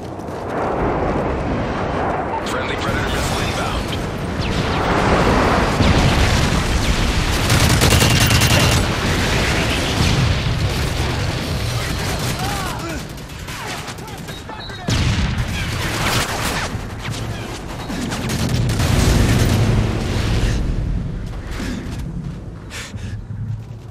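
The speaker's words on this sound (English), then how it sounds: "Delta airstrike on the way." Explosions and gunfire from an airstrike in Modern Warfare 3 multiplayer, dense booms and rattling bursts rolling on continuously, with game voice callouts heard under the blasts.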